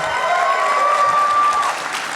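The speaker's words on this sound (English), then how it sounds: "give a huge round of applause" A crowd at an Apex Legends convention Q&A panel gives a loud round of applause, a dense, sustained roar of clapping from a large audience with a faint thin tone running through it.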